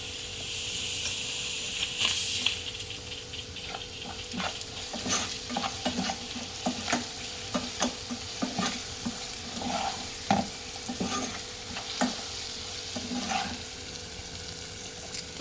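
Ginger garlic paste frying in a pan for a split moong dal curry, a constant sizzle under repeated scraping and clattering strokes of a spoon stirring through it, close and steady, with no talking.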